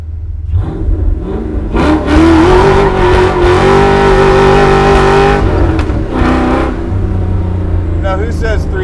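A 1966 Ford Mustang with a 347 stroker V8 making about 320 horsepower, revving loudly and close in a lot marked with burnout tracks. The engine climbs and holds a sustained roar before easing off, with voices heard over it.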